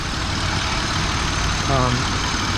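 A supercharged Pontiac Grand Prix GTP with headers and a custom fender-well intake idles steadily close by, a continuous low rumble with a brief rise partway through, while someone talks over it.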